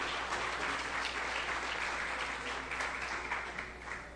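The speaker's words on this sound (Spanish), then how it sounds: "Recibámoslo con un fuerte aplauso y démosle la bienvenida a nuestro municipio." Audience applause welcoming a speaker at an education forum on pedagogical leadership; a large crowd claps in a dense, steady wash that holds evenly and thins slightly toward the end, with no speech over it.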